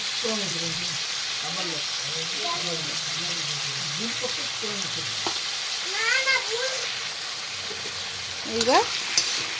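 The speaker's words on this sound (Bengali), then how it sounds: "আলুটা লাল লাল করে ভেজে নিই" Potato pieces with salt and turmeric fry steadily in hot oil, a continuous soft sizzle running under someone speaking throughout.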